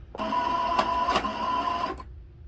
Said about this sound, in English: get the bobbin going